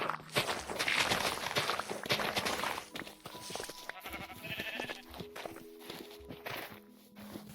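A Minecraft sheep bleats a few times amid in-game footsteps and hooved clip-clop, fairly quiet and close, with several wavering calls in the second half.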